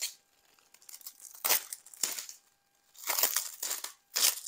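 Adhesive tape is peeled off in several short, crackling rips separated by brief pauses, close and fairly quiet.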